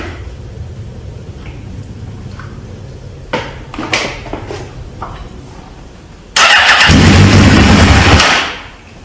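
A 1999 Suzuki GSX-R 750 motorcycle, rebuilt after a bad engine, gives a few brief clicks and cranking attempts, then starts and runs loudly for about two seconds before cutting off, over low background hum.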